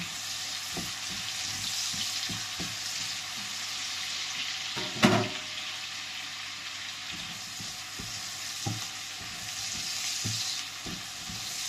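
Garlic and pork ribs sizzle steadily in a frying pan, with a fairly close, continuous hiss. Light clinks and stirring scrapes break through, and one sharper knock comes near the middle.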